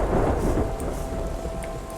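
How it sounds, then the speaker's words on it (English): Steady rain hisses with a low rumble of thunder in the video game Terra Nil, a continuous, full wash of storm sound with no voices. "In comes the rain to fill it back out."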